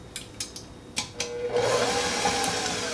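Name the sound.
stand mixer running while mixing keto chocolate cake batter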